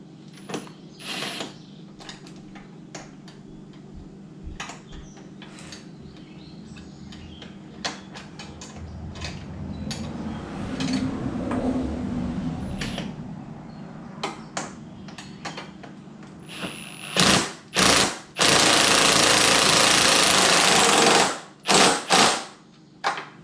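A 13 mm wrench tightens the winch mounting bolts on a Can-Am Outlander 570 XMR ATV, making irregular close ratcheting clicks and metallic taps, followed near the end by loud bursts of handling noise.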